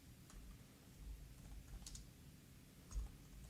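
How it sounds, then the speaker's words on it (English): Quiet typing on a computer keyboard, a handful of soft, sparse key clicks heard close but faint, with no talking. "So to do that, we will type something like this"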